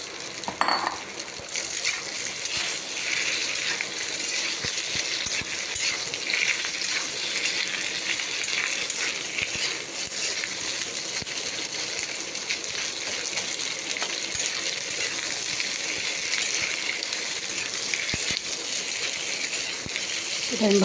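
Diced potatoes and green chillies frying in a pan give a steady close sizzle throughout, with occasional light scraping and clinks of stirring.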